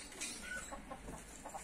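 A broody hen gives low, repeated clucks at a close distance, with soft rustling and faint background noise around them.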